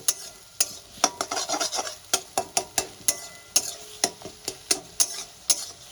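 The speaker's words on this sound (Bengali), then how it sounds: "লো ফ্লেমে আস্তে আস্তে আমি এটা একটা ভুজি বানিয়ে নেবো এরকম নেড়ে চেড়ে" Potato, egg and spring onion bhuji stirred slowly in a pan over low flame: a close series of distinct spatula scrapes and taps in an uneven rhythm over a soft, faint sizzle.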